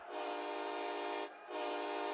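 A train horn sounds loud and sustained, a rich steady blast that cuts off briefly and then resumes for a second long note.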